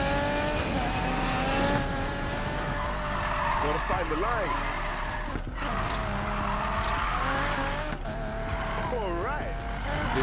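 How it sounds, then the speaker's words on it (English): A car drifting in Need for Speed Payback, with a continuous engine roar and repeated tire squeals rising and falling over the drift while a person talks throughout. "The drifts end so quick."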